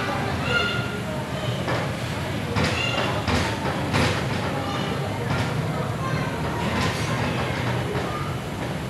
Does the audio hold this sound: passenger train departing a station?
yes